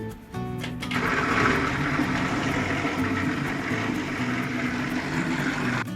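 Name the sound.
electric grinder grinding eggplant mixture finely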